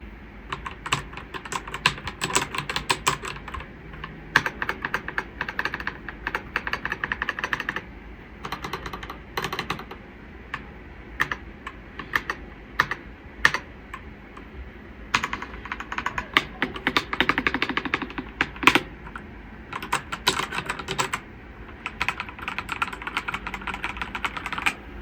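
Rapid typing on a mechanical computer keyboard, close-miked, with crisp clicky keystrokes in irregular bursts and short pauses running throughout, no talking.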